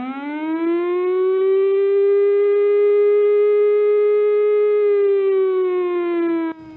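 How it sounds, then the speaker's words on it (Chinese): A civil-defence flood warning siren in eastern Taiwan sounds one long, steady, loud wailing tone for several seconds, then cuts off abruptly. "警报声是这种声音。"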